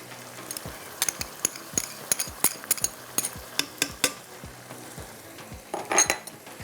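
Ground onion and tomato paste frying in a pan for a kasoori chicken handi, with a soft sizzle under a string of sharp clinks and scrapes from a spoon stirring against the metal.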